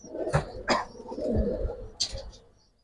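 A female pigeon calling at a pigeon farm, a few short coos in an uneven rhythm, close and fairly clear, with a faint voice briefly in the background.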